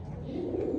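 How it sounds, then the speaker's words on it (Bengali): Mundian pigeons give a brief, low, throaty coo close by, a single soft rolling call with no talk over it. "দর্শক কবুতরগুলো বসে আছে"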